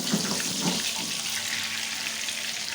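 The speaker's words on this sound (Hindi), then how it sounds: "गोला कबाब हमारे फ्राई हो रहे हैं" Gola kababs frying in hot oil make a steady, close, hissing sizzle that continues without a break.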